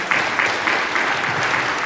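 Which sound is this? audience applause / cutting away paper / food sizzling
audience applause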